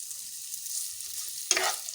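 Onions dropped into hot oil with fried cumin seeds, a sharp sizzle bursting up near the end after a quieter, steady frying hiss.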